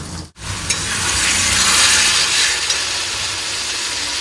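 Chicken sizzling loudly in a hot pan with spices, a steady close frying hiss that carries on almost unbroken after a brief cut near the start.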